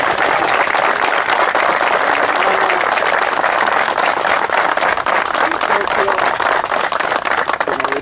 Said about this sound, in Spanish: Así que un aplauso ahí para él.